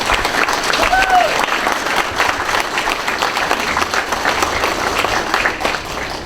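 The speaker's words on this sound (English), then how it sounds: "Let's have a round of applause for Stan and thank him." An audience applauds steadily throughout, with a dense, sustained roar of clapping in a hall during a live entertainment show, and a brief faint voice is heard in the middle.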